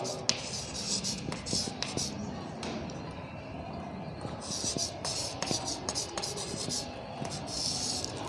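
Chalk or marker writing on a board in a classroom grammar lesson, with quick intermittent scratches and taps, some sharp, under a continuous teacher's voice.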